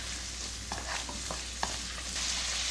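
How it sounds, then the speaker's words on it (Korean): Garlic scapes stir-fry in a pan over medium heat, a constant close sizzle with a few light stirring taps and scrapes across the short stretch and no speech. "중불인 상태에서 달달달달 볶아주시면 되세요."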